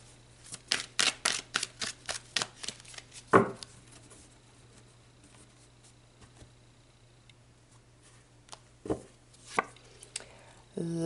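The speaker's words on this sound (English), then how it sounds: "do another shuffle" Quick, crisp tarot card flicks and riffles patter in a rapid burst, followed by a few scattered taps and a sharp snap near the end.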